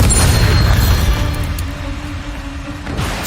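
A loud booming blast from a Bombarda spell in Hogwarts Legacy, a heavy low rumble that fills the opening second and then slowly decays into a rolling tail with scattered debris-like crackles, no talk over it.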